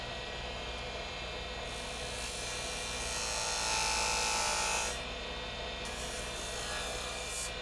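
A skew chisel cuts a bead on wood spinning on a lathe, giving a continuous rough scraping and hissing cut over the motor's steady hum, swelling louder midway through.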